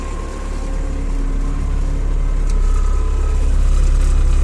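A tractor pulling a corn seeder drives across a field, a steady low engine drone that grows slightly louder over the clip, with faint mechanical rattle from the seeder.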